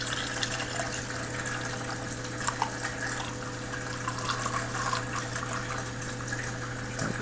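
Broken Stick Brewery Socks and Sandals IPA, a 6.2% beer, poured into a glass in a steady, continuous liquid stream with gentle fizzing, fairly close and alone without any talking.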